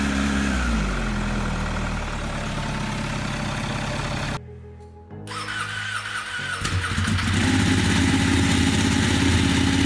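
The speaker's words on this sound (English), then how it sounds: "when you go to start one, like a Ducati Panigale, it just sounds like they're struggling" A Ducati Panigale motorcycle engine cranks and rumbles loudly, cuts out abruptly into near silence, then restarts with a rough, struggling catch before settling into a strong, steady idle.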